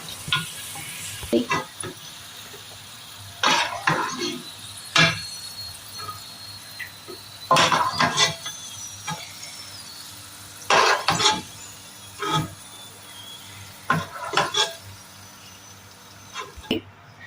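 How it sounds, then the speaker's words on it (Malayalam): Chicken pieces for a Kerala-style biryani fry in oil under a low, continuous sizzle. Intermittent bursts of stirring scrapes and metallic clinks come close by every second or two. No voices are heard. "അപ്പോൾ ഇത് ഫ്രൈ ആയി തുടങ്ങി. നമുക്കിനി ഇത് എണ്ണയിൽ നിന്ന് മാറ്റിയെടുക്കാം."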